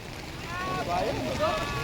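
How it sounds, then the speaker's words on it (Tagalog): Steady wind roar buffets a small outrigger-less fishing boat (bangka) out at sea in rough, choppy water, with a continuous loud rush throughout and voices faintly mixed in. "Malakas yung hangin."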